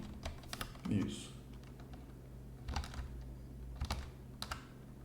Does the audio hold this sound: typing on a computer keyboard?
yes